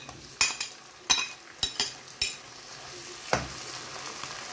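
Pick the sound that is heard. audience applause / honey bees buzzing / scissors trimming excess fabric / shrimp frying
shrimp frying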